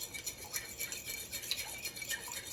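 Macaroni and cheese ingredients are stirred together in a bowl, giving quiet, close, wet scraping and clinking of a utensil in a steady repeating rhythm.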